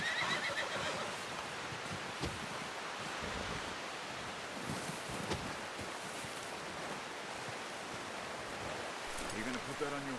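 A horse whinnies in Red Dead Redemption 2 during a hunt, the neigh rising over steady wind and outdoor ambience, with faint hoof clops.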